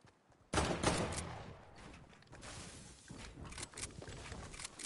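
Bursts of AK rifle fire crackle in a first-person shooter game, a sharp loud volley at the start settling into continued intermittent shots and game noise, with no talking.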